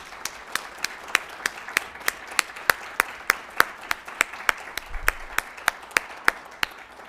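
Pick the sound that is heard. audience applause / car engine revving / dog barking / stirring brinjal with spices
audience applause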